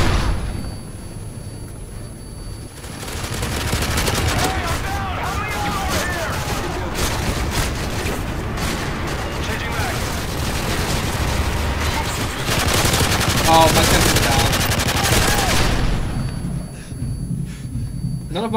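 Sustained video game gunfire during a survival match against a juggernaut, dense bursts of shots and booms filling the whole stretch with little pause, talk mixed in underneath.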